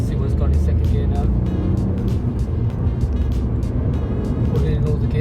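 A 2016 Ford Fiesta ST Line with a turbocharged engine accelerates hard in second gear, a loud, steady engine drone heard from inside the cabin, with a voice talking over it.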